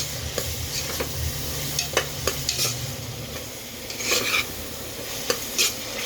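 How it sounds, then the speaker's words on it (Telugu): Onions for gongura chicken fry in a pressure cooker as a spoon stirs them, a low constant sizzle under repeated metallic scrapes and taps against the pot, close up and without speech. "ఇప్పుడు 3 మినిట్స్ తర్వాత ఒకసారి కలుపుకుందాం. చూసారా, లైట్గా వేగిపోయినాయి కదా"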